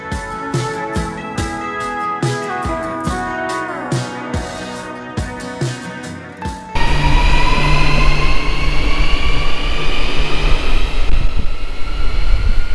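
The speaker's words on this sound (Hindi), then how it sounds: "ये थी के L I A transit train जो कि 14 रिंगिट में यानी कि लगभग 230 रुपए में मुझे के एल सेंट्रल से पुत्रजया सेंट्रल तक लेके आई" KLIA Transit train running from KL Sentral to Putrajaya Sentral, heard from inside: a rhythmic clatter of wheels over rail joints with tonal motor whine, then a steady louder roar and rumble at speed with rising electric whine, no talk.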